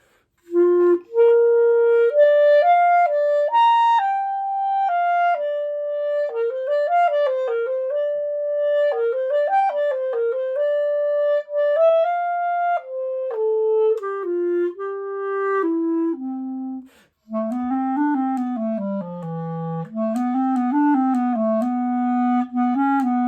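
Clarinet played solo in a middle-school band setting, a sustained woodwind melody of smooth connected notes with a brief pause before a lower, wavering passage, close and steady with no talk.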